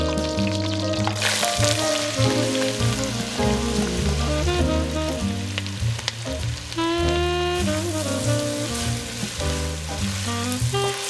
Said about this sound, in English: Not many better smells out there than a whole bunch of onions and garlic being sauteed in a bath of butter.